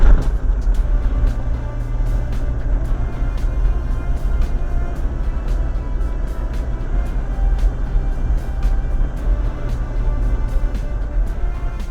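4x4 vehicle climbing a sand dune in the Kalahari, Botswana, with a steady loud engine roar and low rumble throughout, plus repeated rattles and knocks from the vehicle bouncing over the track.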